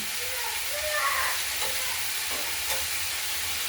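Cabbage fries in a pan with a steady, dense sizzle that holds throughout, with a few faint stirring scrapes rising briefly above it.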